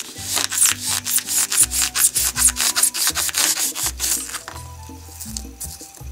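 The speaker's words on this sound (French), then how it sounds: "Nous allons maintenant découper le bout des 2 boules, de façon à avoir quelque chose de plat." Knife cutting the ends off two foam balls to flatten them while making fofucha doll feet, heard as close, rhythmic scraping and rubbing strokes with brief pauses, alone, with no talk.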